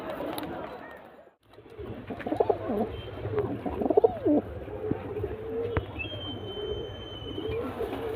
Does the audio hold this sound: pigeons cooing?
yes